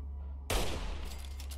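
Single rifle gunshot in Fallout 3, a sudden loud crack followed by a short decaying echo.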